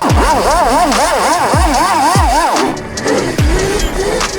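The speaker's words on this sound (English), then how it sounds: "This motor has got so much torque, it just wheel spins everywhere." A 16 kW electric motorbike (ETM RTR build) accelerates hard with its rear wheel spinning, giving a loud, close, rising and falling motor whine with repeated surges and tire-slip bursts throughout.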